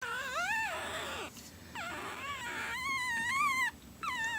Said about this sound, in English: I have puppies at my feet.